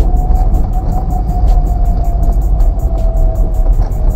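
A manual car's engine revs steadily in neutral, then the driver pushes the stick into third gear without using the clutch. It is a continuous, fairly loud drone with a faint whining tone and no voices.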